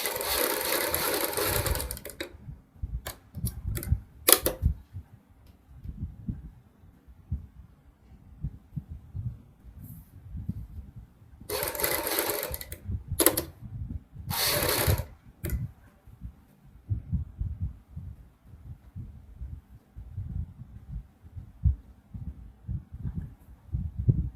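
A sewing machine stitching the boat neck of a kurti, with runs of rapid, even stitching hum separated by pauses and a few sharp, loud bursts.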